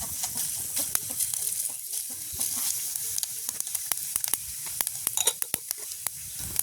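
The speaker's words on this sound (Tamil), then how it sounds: "இப்போ நாங்கள் வதக்கித்தான் வைக்க போகிறோம்" Fenugreek and fennel seeds sauté in hot oil, crackling with dense irregular pops and snaps over a bright hiss, close and fairly loud.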